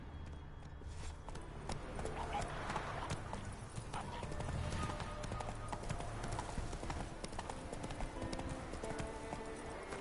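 Horse hooves pounding in a fast, steady gallop in The Witcher 3 video game, continuous and fairly loud throughout, with a whinny and a voice speaking over the hoofbeats.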